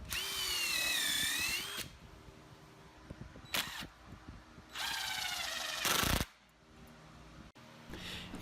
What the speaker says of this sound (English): this particular countersink bit that I'm using has a 3/8 inch countersink head on the end of it